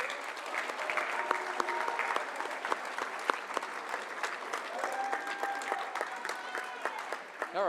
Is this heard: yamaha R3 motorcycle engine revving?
no